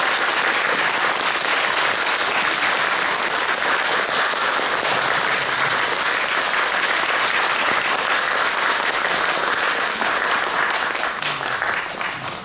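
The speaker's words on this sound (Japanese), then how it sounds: "感謝の拍手を送りたいと思います。" Audience applause at a film festival symposium, dense sustained clapping filling the hall throughout, loud and continuous before tapering slightly at the end.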